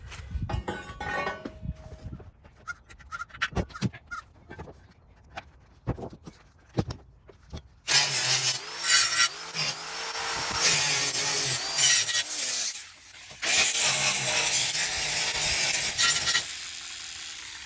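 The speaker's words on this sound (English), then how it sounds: "all I got to do is clean up all my weld points with my old 4-inch grinder" An old, cheap 4-inch Harbor Freight angle grinder cleans up weld points on a steel trailer, first a scatter of light metallic clatter, then a loud, harsh continuous grinding whine with shifting pitch that briefly dips before roaring on.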